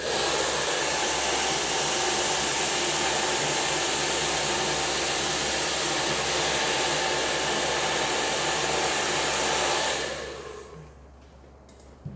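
A hair dryer blows hair for a blow-dry after a hair treatment, a loud steady roar running without pause for about ten seconds before it cuts off and leaves faint room noise.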